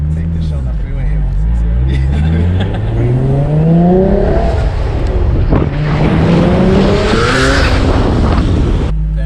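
A single-turbo Nissan 350Z with an HR engine pulls hard on a freeway, its revs climbing in repeated rising sweeps through the gears from inside the cabin, with people talking over the engine noise.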